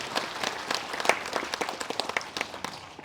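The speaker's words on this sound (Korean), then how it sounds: "자 박수로 환영해 주시면 고맙겠습니다." Audience applause at a memorial ceremony held in a hall, a steady wash of many hands clapping, moderately distant, with no talk over it.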